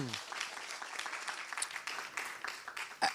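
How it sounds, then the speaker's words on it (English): An audience at a debate on the food sector and climate change breaks into applause, a dense wash of clapping with a voice speaking briefly at the start. "Round of applause"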